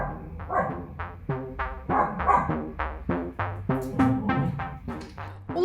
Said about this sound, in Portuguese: O latido denuncia que tem doguinho na área